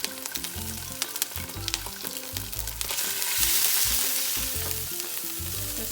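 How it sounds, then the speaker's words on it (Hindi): Onion, green chilies and ginger garlic paste fry in hot olive oil, a loud continuous sizzle that swells midway, with rhythmic stirring knocks and a low background hum underneath, no voices. "ऑयल गरम हो जाए तो सबसे पहले आप डालें इसमें जिंजर गार्लिक पेस्ट, बस, और उसमें डालें फिर आप अनियन"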